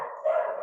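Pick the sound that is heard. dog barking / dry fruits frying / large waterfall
dog barking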